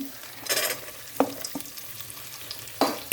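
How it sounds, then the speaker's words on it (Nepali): Cashews frying in a pan for Nepali-style butter chicken, with a few sharp stirring scrapes and clinks spaced over a steady background sizzle, close by and with no talk. "हामी काजु हाल्छौँ"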